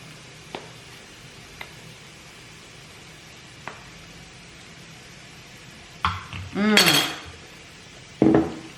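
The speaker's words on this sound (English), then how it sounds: "So I like to just scrape the sides down and kind of give it a bit of a mix." A utensil scrapes the sides of a blender container, with a few soft taps early on, then louder scraping and clattering bursts near the end.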